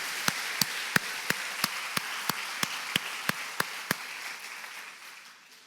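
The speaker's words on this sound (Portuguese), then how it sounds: "Aleluia, aplauda Ele." A church congregation claps in unison, a dozen crisp, evenly spaced hand claps in a steady beat that stops abruptly, leaving faint room noise.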